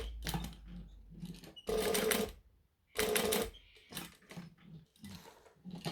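A sewing machine runs in short bursts while top stitching fabric near the edge, its rapid mechanical chatter starting and stopping with quiet pauses and small handling noises between runs.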